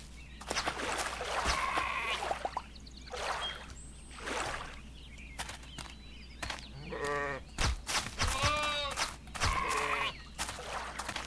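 Sheep bleating in the video game Elsewhere, several wavering cries spaced through the stretch and louder toward the end, over a low steady game hum with no talk.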